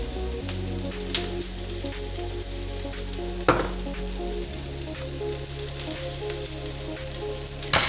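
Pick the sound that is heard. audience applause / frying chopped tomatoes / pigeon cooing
frying chopped tomatoes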